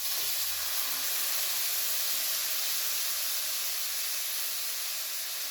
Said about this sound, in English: Now I want to add the broth that we had boiled the meat to it